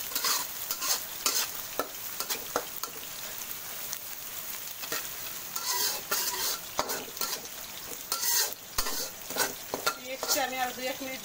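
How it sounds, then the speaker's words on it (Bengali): Onions fry in oil in a pan with a little salt, a continuous sizzle broken by repeated scraping and stirring strokes of a utensil against the pan, close and clear. "দিয়ে আমি পেঁয়াজটা একটু লাল করে নেব"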